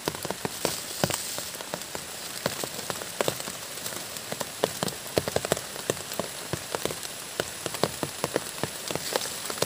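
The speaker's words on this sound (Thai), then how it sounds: "ฝนก็ตกเลยพี่น้องเอ้ย" Rain falls steadily in a forest during morning mushroom foraging, a dense close patter of drops striking leaves and ground with sharper individual taps scattered throughout, with no voices.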